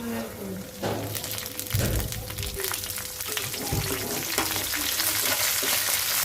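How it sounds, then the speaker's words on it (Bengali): Garlic, onion and dry chilies fry in hot oil for a tomato chutney, giving a loud, steady sizzle with a few stirring thumps and scrapes throughout. "রসুন দিলাম পেঁয়াজ দিব তেল দিব আর শুকনো মরিচ দিয়ে ভালো করে ভাজবো"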